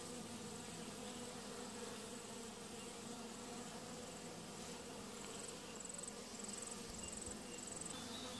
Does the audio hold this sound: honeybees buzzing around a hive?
yes